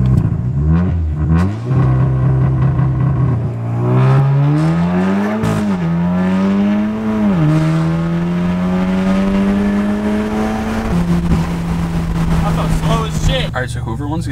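A street-race car launching and accelerating hard in the middle of a road, the engine roaring close and loud as its pitch climbs through several gear changes, with voices partly audible over it.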